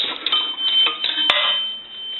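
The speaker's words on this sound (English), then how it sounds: "A dime will ring the bell twice." An AE three-slot payphone's coin bell sounds as a dime drops, with bright metallic rings that linger and decay, close and clear, with no voices.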